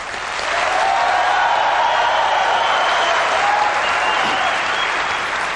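Audience at a 1999 MacWorld Expo keynote bursts into loud, sustained clapping for the second of two choices, a dense wash of applause filling the hall with no speech over it.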